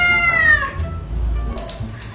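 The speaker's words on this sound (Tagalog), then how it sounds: "Ay! May pusa pala kayo?" A cat gives one loud, drawn-out meow with a falling pitch close by, followed by quieter background noise and a short faint rustle.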